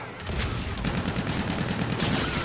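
NV4 assault rifle firing in Call of Duty: Infinite Warfare, a dense rapid stream of automatic shots with faint chatter behind it, steady and unbroken for a couple of seconds.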